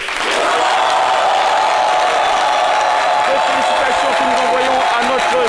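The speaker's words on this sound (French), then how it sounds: "bienvenue avec les applaudissements renouvelés du public" Steady, loud applause and cheering from a television studio audience during a midday show, dense and continuous throughout with a tonal hum running underneath.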